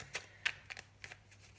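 A deck of cards being shuffled and handled, several crisp riffling bursts in quick succession, close and fairly quiet, with no voice over them.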